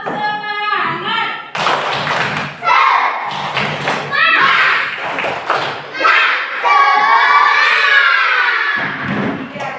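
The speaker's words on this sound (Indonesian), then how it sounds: "Coba kita tepuk dulu." Schoolchildren in a classroom clap and shout together in a loud, rhythmic group chant, with bursts of clapping and voices throughout.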